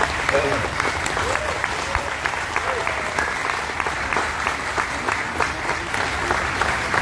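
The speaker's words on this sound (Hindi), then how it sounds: "जोरदार तालियां" An event audience in a hall in Vadodara gives loud, steady applause, dense clapping that continues throughout without a break.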